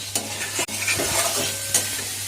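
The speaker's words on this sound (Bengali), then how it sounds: "আলুর সঙ্গে ভালোভাবে মশলাটা মিশিয়ে ভালোভাবে কষিয়ে নেব" Fried small potatoes are stir-fried with spice masala for a potato dum, a close sizzle broken by scraping spatula strokes against the pan, short and busy with no voices.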